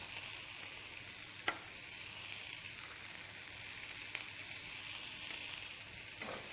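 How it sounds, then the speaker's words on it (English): Grated coconut fries with masala in a pan for vangibath, a steady close hiss of sizzling oil with a few faint ticks and stirring scrapes, continuous and fairly quiet, no talking. "After adding coconut, allow it to fry once again till the coconut fries"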